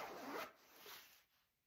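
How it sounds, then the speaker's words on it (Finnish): A large armpit ventilation zipper on an Origopro TST winter suit is pulled in two quick rasping strokes, close and fairly quiet, then fades out. "Molemmissa kainaloissa on iso ventilaatiovetoketju."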